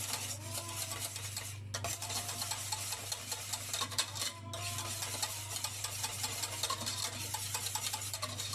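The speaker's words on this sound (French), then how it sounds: "Moi je mets juste sel, poivre, comme ceci, et citron. Et je mélange le tout." Spoon stirring a hollandaise-style sauce with salt, pepper and lemon in a bowl, a steady close scraping and swirling over a low kitchen hum, with no talking.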